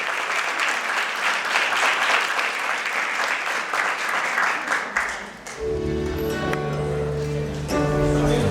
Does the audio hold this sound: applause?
yes